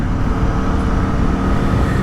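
A 2022 Aprilia Tuono V4 Factory motorcycle with its exhaust valve held permanently open by a servo motor mod, a steady loud engine and exhaust drone rumbling continuously while being ridden, no voices.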